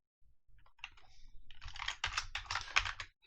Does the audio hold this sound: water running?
no